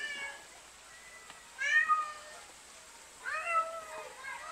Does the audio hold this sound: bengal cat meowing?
yes